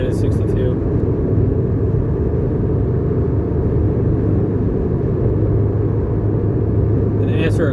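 Porsche Boxster 986 S engine droning steadily while cruising in fifth gear at around 3,000 RPM, a loud, even low rumble with road noise filling the cabin throughout.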